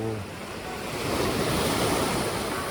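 Ocean waves surging and breaking against a rocky shore on Jeju Island, a continuous broad wash of surf that swells louder toward the end, with wind noise over the microphone and no talk.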